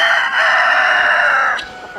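A rooster in a large mixed flock of chickens crows one long sustained call lasting well over a second, loud and close, followed by brief clucks, with no talking.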